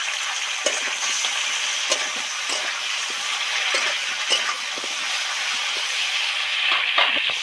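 Fresh cauliflower frying in a pan with salt, a steady bright sizzle and hiss with scattered crackles and pops continuing throughout, close and fairly loud, no voices.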